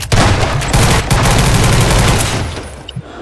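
Rapid bursts of gunfire from the video game Garry's Mod, loud and dense for most of the clip, fading near the end with a couple of isolated shots.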